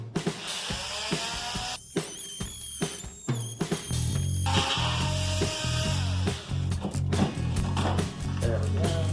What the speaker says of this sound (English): So I just need to cut the nails here and here.